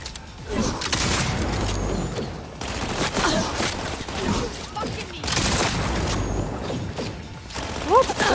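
Rapid bursts of gunfire from a shotgun and other weapons in Cyberpunk 2077, with booming shots, clanking mechanisms and game effects filling a dense, loud combat mix.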